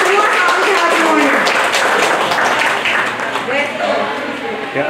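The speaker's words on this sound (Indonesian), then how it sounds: "Tepuk tangan untuk kita semua, salam sehat semuanya." Applause at a community outreach gathering in Indonesia, a dense burst of crowd clapping that stays loud and gradually thins, with voices talking over it.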